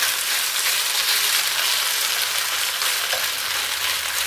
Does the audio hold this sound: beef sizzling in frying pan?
yes